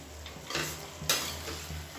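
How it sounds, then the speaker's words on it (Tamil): Chicken frying in oil in a covered pan is stirred, with soft sizzling under a few clinks and scrapes of a utensil against the pan, close and moderately loud. "கிளறி விட்டுட்டு திருப்பி மூடி விட்டுடலாம்."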